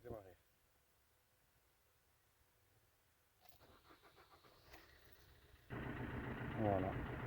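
A Fiat Grande Punto 1.3 Multijet diesel cranks over after a fuel filter change, a whirring starter building for a couple of seconds before the engine catches and settles into a steady, louder idle; someone speaks briefly at the start.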